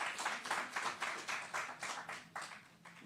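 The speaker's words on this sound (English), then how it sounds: "So let's give them a round of applause." Faint audience clapping at a Philadelphia housing project ceremony, a quick, fairly even run of hand claps heard from a distance.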